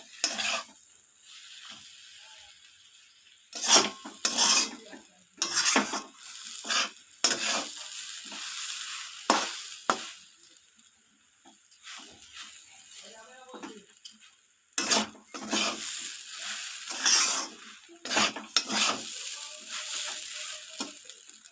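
Semolina and water stirred in a pan for spicy suji, a spoon scraping and swishing in repeated bursts with faint sizzling between strokes, close and clear, no talking.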